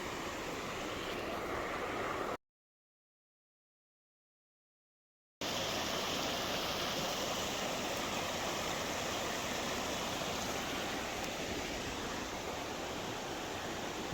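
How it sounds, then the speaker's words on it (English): The Kennebec River runs high after rain as someone wades across it, giving a steady, broadband rush of flowing water close by that briefly cuts out and then resumes, with no talking. "Guess I'm gonna ford the river."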